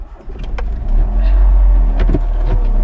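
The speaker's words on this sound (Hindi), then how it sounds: "ठीक है फिर भगा गाड़ी उधर को" A car's engine revs up and rumbles loudly as it pulls away close by at a village fair, the low drone building and holding steady with a few faint knocks and clicks.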